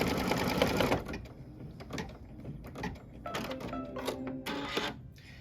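A sewing machine stitching a quilt block, running in bursts of rapid mechanical clatter with brief pauses and small clicks between runs, close by.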